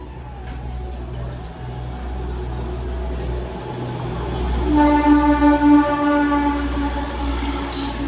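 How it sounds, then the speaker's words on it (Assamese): A train rolls through Tangla station with a continuous low rumble of wheels and wagons, joined midway by a loud sustained horn blast; nearby ambience stays underneath throughout. "ভাইটি এন্তৰ ট্ৰেইন আহি গ'ল, এন্তে গৈ আছে"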